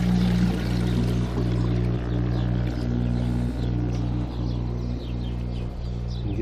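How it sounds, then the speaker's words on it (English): A garden watering can fills steadily with compost tea, a continuous close pouring rush with a low hum underneath, running unbroken throughout. "get a full watering can of compost tea"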